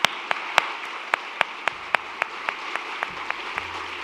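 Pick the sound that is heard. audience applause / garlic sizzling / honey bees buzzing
audience applause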